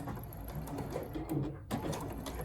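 A sewing machine runs steadily while stitching along the waist seam of men's slacks, a quiet continuous whir with a short break before it resumes.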